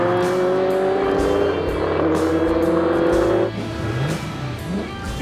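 Bizzarini 5300 GT racing car at the Spa-Classic historic race, its engine roaring loud and close as it accelerates through gear changes, with a rising and falling pitch and a brief lift-off midway.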